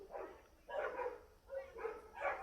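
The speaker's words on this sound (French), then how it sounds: "Petit bonjour des chiens de Rio" Several dogs in Rio de Janeiro bark in four distinct bursts, a loose chorus of mid-pitched woofs at moderate distance, each volley lasting about half a second with short gaps between.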